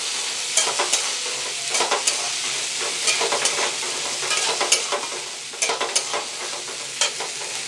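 Chopped carrots and peas frying in a pan for fried rice, giving a continuous close sizzle broken by repeated stirring clatters and scrapes at an uneven rhythm, with no talking.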